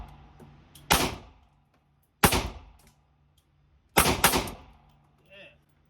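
Three sharp, loud gunshots from a PSA Palmetto Rock 5.7 pistol crack out at irregular intervals, each followed by a short outdoor echo and quiet gaps between.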